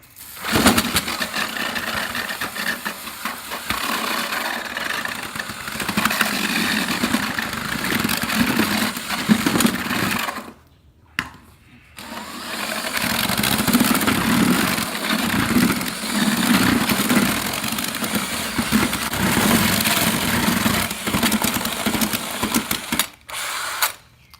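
A power drill runs steadily with a paddle churning thick thinset mortar, pausing briefly about halfway before resuming at a constant, loud whir.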